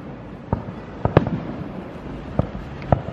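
Fireworks pop in a scattered run of four or five sharp bangs at a summer night show at Dollywood, at a moderate distance, with no talking.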